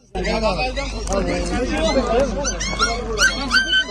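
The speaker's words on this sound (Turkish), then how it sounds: "Kaza yapan otobüsün bagajında bulunan 3 köpek yavrusu da kurtarıldı" Three small puppies rescued from a crashed bus's luggage hold whimper and yip in high, wavering cries, close and continuous, with people talking over them.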